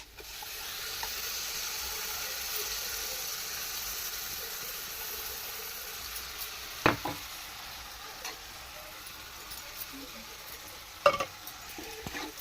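Gota masala paste frying in hot oil gives a steady close sizzle and hiss, broken by a few scraping stirs with a utensil, and no one speaks.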